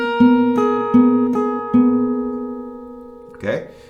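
An acoustic guitar rings out a strummed F-shaped chord pattern, four evenly spaced plucked hits each left to sustain and decay, ending with a brief scraping string noise.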